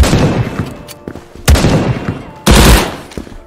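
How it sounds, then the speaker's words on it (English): Game gunfire from the shooter Krunker: three sharp, loud shots spaced about a second apart, each cracking out with a broadband burst and a short decaying tail, the last the heaviest, over a busy background of game noise. "Beautiful long shot."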